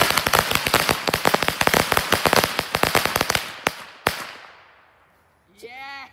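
A string of Phantom firecrackers crackles in a rapid, dense burst of loud pops for about three seconds, then two final bangs and a fading tail, before a voice briefly speaks.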